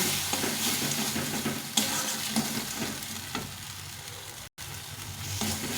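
A paste of cashew and melon seeds, with tomato, sizzles steadily in a pan for potato dum with peas, while a spoon stirs it with soft intermittent scrapes; close and continuous, without speech.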